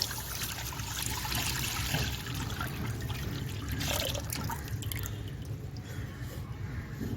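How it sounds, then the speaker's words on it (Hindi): Milk poured into a pan set on a stove for carrot halwa, a steady close liquid pour with a continuous splashing trickle running throughout, loud and without talk. "चूल्हे पर पैन रखकर इसमें ये दूध डाल"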